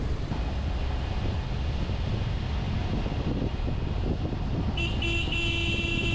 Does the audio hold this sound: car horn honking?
yes